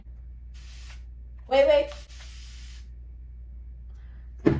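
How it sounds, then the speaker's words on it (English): A Mielle Organics spray bottle mists water onto hair in two soft, close hissing bursts, the second lasting longer, with a brief spoken word between them. "This is like the best spray bottle I've ever had. It sprays even after you stop."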